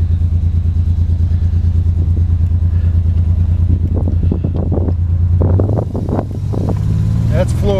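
Rough, uneven engine of a G-body car with a bad ECM, misfiring and not hitting on all cylinders while driving and floored; a loud, steady low rumble with sputtering bursts, under wind noise and brief talk.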